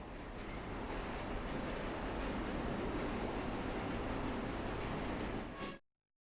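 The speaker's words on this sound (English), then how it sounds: "We have reached the end of the line where this train will terminate." A train runs in the video game Luna Abyss: a continuous, even rumble and rattle of rolling carriages for several seconds, then a brief bright screech before it cuts off abruptly into silence.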